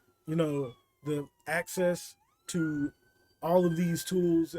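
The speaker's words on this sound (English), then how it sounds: "sorry if you hear that siren in the background." A faint emergency-vehicle siren near a hospital wails steadily far in the background, a thin sustained tone running beneath a man's continuous speech.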